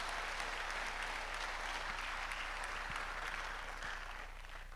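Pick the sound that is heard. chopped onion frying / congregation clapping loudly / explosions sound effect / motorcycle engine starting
congregation clapping loudly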